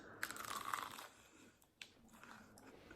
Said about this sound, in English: Oh, that was really crunchy.